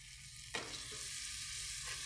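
Red chilli tipped into a hot pan of oil for a tomato side dish, giving a sharp sizzling burst that settles into a steady frying hiss, close and alone with no talk.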